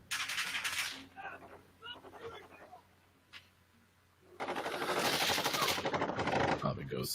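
Rapid video-game gunfire crackling in bursts, with a short early volley, a quieter lull with scattered talk, then a long, loud sustained stretch of automatic shooting from a Warzone match.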